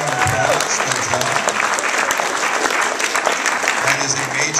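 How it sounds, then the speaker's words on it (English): A class of schoolchildren and audience at an achievement awards ceremony give a loud, sustained round of applause, dense and continuous for the whole stretch. "Give yourselves a big round of applause."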